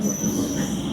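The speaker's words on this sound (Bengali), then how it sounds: "ফাইনালি আমাদের ট্রেন ঢুকছে, এটা নৈহাটি থেকেই আসছে" A Bandel–Naihati local train pulls into the station, giving a steady close rumble with a high, sustained wheel squeal running above it.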